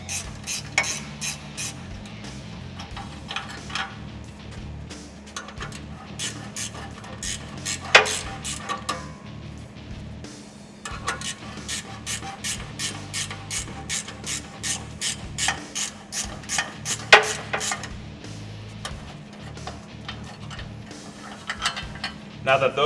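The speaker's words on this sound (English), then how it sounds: "first we're going to remove the bolts on the front of the intermediate pipe" A ratchet removes the bolts on the front of the intermediate pipe of a Toyota 4Runner exhaust, with bursts of rapid, close clicking separated by brief pauses and clinks of metal.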